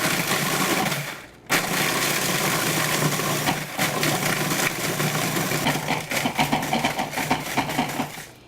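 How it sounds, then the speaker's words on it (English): A food processor pulsing to crush sandwich cream cookies, a loud steady whirring and rattling run broken by a brief stop, then stuttering pulses toward the end. "I'm going to put it right here in my food processor and give it a good pulse"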